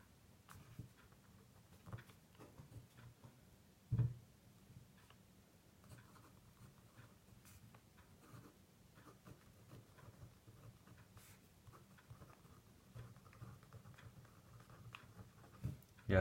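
Pen writing on paper by hand as an integral approximation is worked out, giving faint scratchy strokes in a steady patter, close by but very quiet, with one soft knock partway through.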